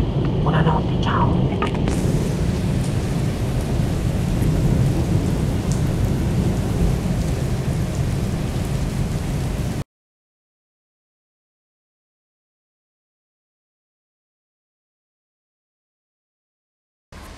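A heavy nighttime thunderstorm in Quartu Sant'Elena: dense rain pours steadily with a rumble of thunder early on, then the sound cuts to silence before a brief return of rain at the end.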